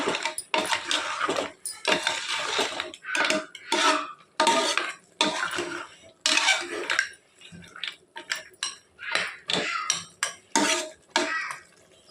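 A spoon or ladle scrapes and clanks against a pot while masala and oil are mixed for goat trotters curry, giving irregular bursts of metallic stirring with short pauses between them.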